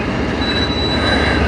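CN manifest freight train with locomotives CN 2928 and CN 3834 rolling past in Sarnia, its wheels squealing loudly and steadily over a continuous roar of rail cars, close and unbroken throughout.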